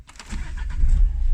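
2015 Renault Clio 4 engine cranking and catching, a short whirring starter burst that settles into a loud low rumble within about a second, close by.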